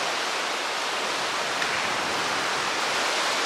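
Godavari river in flood, water rushing near a broken bridge after a week of heavy rain: a steady, loud, unbroken roar of broadband noise with no pauses and no voices.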